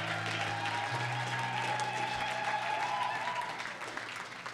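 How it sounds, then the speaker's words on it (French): A church congregation claps and cheers to acclaim the king of kings, a continuous wash of applause with a sustained tone running underneath. "Est-ce que vous pouvez acclamer pour le roi des rois?"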